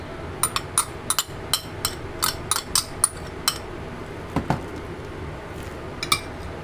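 Cucumber and bell pepper salad tossed with utensils in a dish, producing a quick run of bright clinks and scrapes close up, then a pause and a few scattered knocks; no talking.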